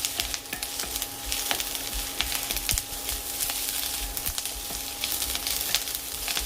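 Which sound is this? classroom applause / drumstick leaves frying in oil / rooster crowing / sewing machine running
drumstick leaves frying in oil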